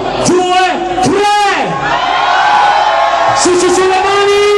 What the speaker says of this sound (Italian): al mio tre un urlo incredibile e lungo